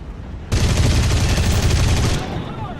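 A sustained burst of rapid aircraft gunfire from a video game air battle rattles loud and close for about one and a half seconds, then cuts to a faint engine drone.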